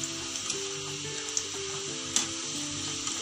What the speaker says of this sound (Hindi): ये देखिए बहुत ही बढ़िया कलर आ गया है, नमकीन फ्राई हो रहा है मेरा।